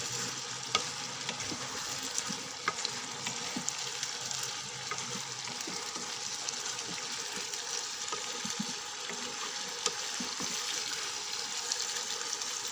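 A spoon stirring potato and pointed gourd curry frying in a pan, a steady close sizzle with repeated soft scraping and clinking strokes throughout, no talking.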